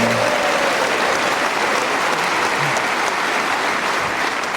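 A theatre audience at a comedy panel show breaks into sustained, dense applause that holds steady at full strength, with clapping alone and no talk over it.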